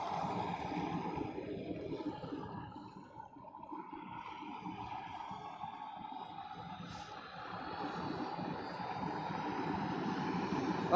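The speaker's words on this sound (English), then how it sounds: "If the mic starts freaking out because of the jet noise, let me know and I'll go ahead and mute it." A jet aircraft flying at an airshow in Gatineau, Canada, produces a loud, steady roar, dipping briefly before swelling again, with a thin whine rising in pitch across the whole stretch.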